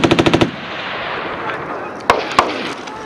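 A Marine Corps machine gun section fires at 29 Palms: a quick burst of about six loud, close automatic shots opens the clip, then two more single sharp reports ring out over outdoor rumble.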